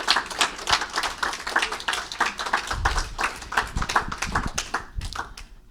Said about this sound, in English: Can I get a round of applause for Diane again?